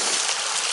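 Water rushing over a beaver dam, a steady, close, broadband flowing hiss with no pauses.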